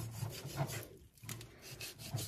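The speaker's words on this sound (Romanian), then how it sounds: "îmi tai carnea" Knife slicing through raw pork on a board, a quiet rhythmic rasping and scraping of repeated strokes with a short pause midway, close and soft, with no talk.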